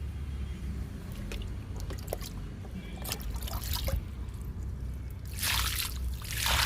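Liquid fertilizer made from two powders trickles and drips onto flowering chrysanthemum plants, with scattered soft splashes and a fuller, louder pour near the end over a low background rumble.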